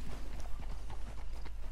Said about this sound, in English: I have found like a full herd of paint horses